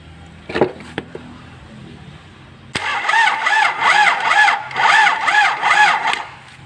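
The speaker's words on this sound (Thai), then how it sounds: "เห็นไหมครับเครื่องยนต์นั้นจะต้องหมุนได้แบบนี้" An Isuzu TFR engine is cranked over by its battery-powered starter after a few clicks and clanks, churning in a loud rhythmic whirr with regular pulsing compression beats for several seconds and no talk.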